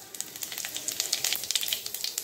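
Cumin seeds and a bay leaf sizzle in hot mustard oil in a kadai, a soft steady frying hiss with quick crackling pops scattered throughout, heard close and alone.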